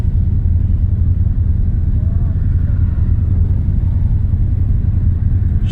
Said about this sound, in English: it's an old carbureted engine. It's gonna run kind of rich, but here we go.